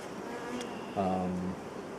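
Honey bees buzz steadily close by during a hive inspection, with a louder, tonal drone swelling for about half a second in the middle.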